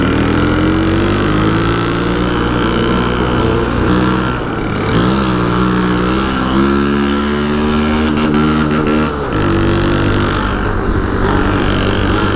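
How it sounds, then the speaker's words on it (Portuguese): Several Shineray motorcycles rev their engines together, a loud, continuous roar with rising and falling throttle sweeps and layered engine tones, close by and sustained throughout without talk. "mas os parceiros tá acelerando lá na frente."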